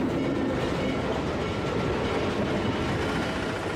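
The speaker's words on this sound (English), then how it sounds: "At last, the special coaches entered the yard." Special coaches of a Christmas train roll into a rail yard, a steady, dense rumble of wheels on track with faint clickety-clack, continuous and close, with no voices.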